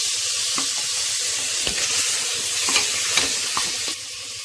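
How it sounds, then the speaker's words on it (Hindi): Green beans tumble into a pan of frying masala for a paneer and beans sabzi, setting off a steady, close sizzle with a few scraping stir knocks throughout. "इसमें डालेंगे हम फलियां।"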